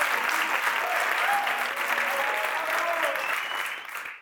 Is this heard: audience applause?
yes